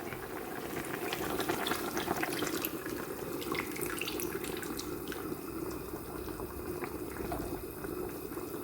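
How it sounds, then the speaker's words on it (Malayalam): Coconut milk pours into a pot of boiled chicken, a soft steady liquid rush and bubbling that runs evenly throughout at low volume. "ഇപ്പം നമ്മളതിലേക്ക് തേങ്ങാപ്പാലാണ് ഒഴിക്കുന്നത്"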